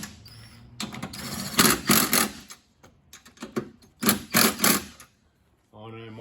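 Bursts of an impact gun tightening the nuts on a vehicle fuel filter, short rattling runs in two clusters with pauses between, close and fairly loud, a voice briefly heard at the end.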